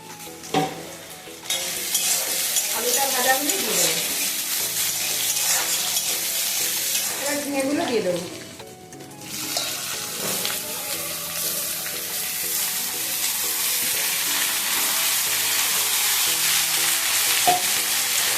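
Potatoes fry and get stirred in a pan for a ridge gourd and rohu fish curry, a continuous loud sizzle with scraping stir strokes throughout and a brief dip midway, with no voices.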